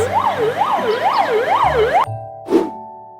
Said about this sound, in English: A is for ambulance.